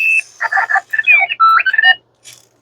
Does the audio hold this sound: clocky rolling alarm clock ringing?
yes